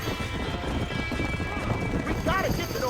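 Horses in a burning barn in the Red Dead Redemption game whinny and clatter their hooves amid a dense, loud rumble of fire and crashing, with shouting voices over it.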